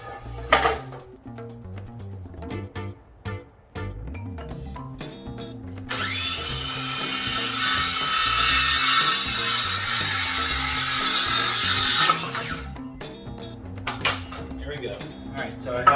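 A power tool cuts wooden boards to 41 inches, a loud steady whine for about six seconds in the middle, surrounded by clattering handling of wood and tools with background music.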